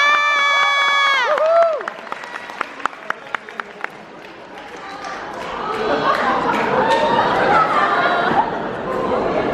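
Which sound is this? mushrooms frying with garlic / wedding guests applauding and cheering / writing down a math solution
wedding guests applauding and cheering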